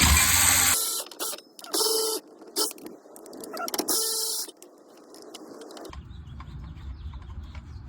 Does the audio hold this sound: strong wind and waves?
no